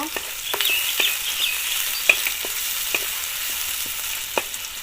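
Chopped garlic and onion frying in oil in a pan, a steady bright sizzle with intermittent spoon taps and stirring clicks.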